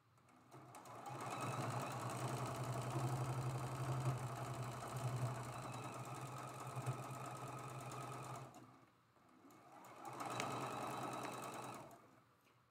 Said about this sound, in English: I'm gonna match up the edges on this block and sew that seam